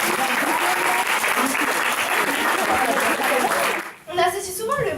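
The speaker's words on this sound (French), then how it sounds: "Je vais les applaudir." A live audience claps steadily at an eloquence contest final in a media library in Épinay-sur-Seine, dense applause filling the room for about four seconds before fading to scattered claps and a voice.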